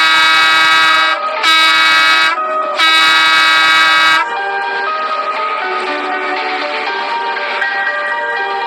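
A bus arrives sounding a loud horn: three close, blaring honks in quick succession, the last held longest, then a sustained tonal hum continues alone after the horn stops.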